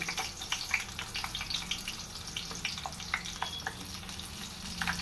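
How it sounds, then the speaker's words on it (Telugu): Stuffed capsicums being laid into hot oil, giving a steady close sizzle with scattered popping crackles throughout, fairly faint and without speech. "ఆయిల్ హీట్ ఎక్కింది కదా. ఇప్పుడు మనం ముందుగా స్టఫ్ చేసుకున్న క్యాప్సికమ్, ఒక్కొక్క క్యాప్సికమ్ని ఇలా పెట్టేసుకుందాం."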